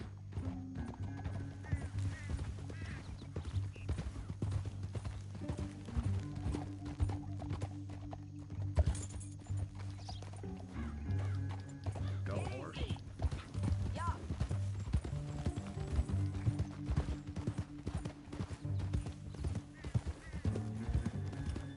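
Horse hooves clip-clop steadily through a Red Dead Redemption 2 game scene, a continuous trotting rhythm over a low musical drone, with occasional whinnies and game characters talking.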